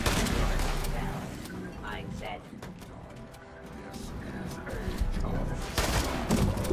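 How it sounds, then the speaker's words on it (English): Repeated gunfire in the Fallout 76 video game, a level 5 shotgun blasting at a super mutant, loud bursts crowding one another over dense game noise and music with a voice talking throughout. "let's just continue just shooting him with the shotgun"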